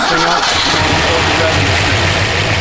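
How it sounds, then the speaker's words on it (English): A 1967 Ford Fairlane GT V8 cranks and catches, settling into a rough, rumbling idle close by, with a voice talking over the engine. "Car gets 100 pounds of oil pressure at idle when you first start this thing"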